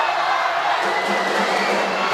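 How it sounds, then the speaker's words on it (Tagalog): A restless crowd at a live basketball game between EOG Cooly and San Juan Knights at Muntinlupa Angelis Resort, a loud, dense roar of cheering and shouting that stays constant throughout. "The crowd getting restless here"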